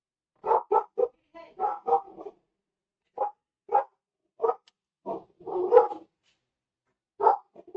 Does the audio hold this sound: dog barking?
yes